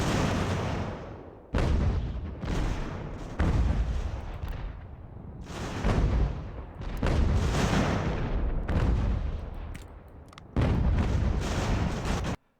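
Cannon fire in an American Revolution strategy battle game: a series of heavy booming artillery shots, about eight in irregular succession, each loud and close with a rolling decay before the next.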